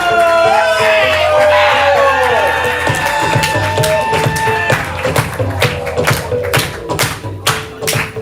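Live crowd at a ComedySportz improv comedy match cheering and whooping loudly at the start of the second half, with claps and thumps building into rhythmic clapping, a voice calling over the noise at times.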